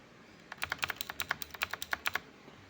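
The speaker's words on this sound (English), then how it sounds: "That is the main thing with the blue switches. They are very loud, as you can hear" Mechanical keyboard with loud blue clicky switches typed in a quick burst of about twenty sharp, crisp clicks. Close and alone with no voice.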